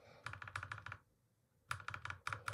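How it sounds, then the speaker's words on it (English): Quick bursts of typing on a laptop keyboard, rapid clicky keystrokes in two runs separated by a brief pause, close and clear with no talking. "So now if I start typing with it,"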